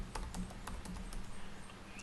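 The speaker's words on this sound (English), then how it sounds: "under Name, we just want to type in the name of our category." Keys tapped on a computer keyboard as a category name is entered in a WordPress admin page, a quick run of light, close clicks at a steady pace with a faint hum underneath.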